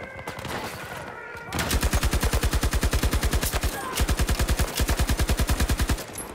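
The RPT-31 light machine gun firing in Battlefield 2042: long, loud, rapid automatic bursts with an even, rattling rhythm and brief pauses between strings of shots, after quieter game sounds at the start.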